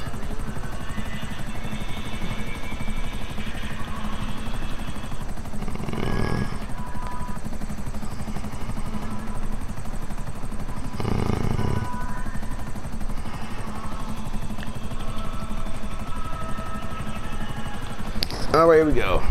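A helicopter in GTA Online drones with a continuous whirring rotor chop and engine hum for the full length, loud and steady, as someone talks over it.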